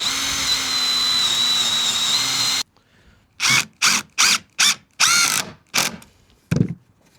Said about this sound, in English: Drill that in.